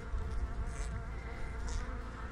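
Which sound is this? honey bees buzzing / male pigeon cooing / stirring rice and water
honey bees buzzing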